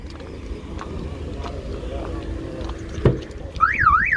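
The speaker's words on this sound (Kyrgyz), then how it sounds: "Сигнализация бар экен" A 2012 Hyundai Porter 2 truck with a 126 CRDI diesel engine and 456,000 km on it sits in an outdoor vehicle market. Its car alarm bursts into a loud, warbling siren right after a sharp thud, over steady background noise.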